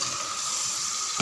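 Onions and chicken fry and get stirred in oil in a pot for biryani, a steady close sizzle running throughout, with a brief louder stir or scrape near the end.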